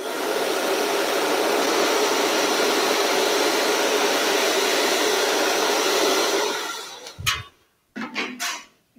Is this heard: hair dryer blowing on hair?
yes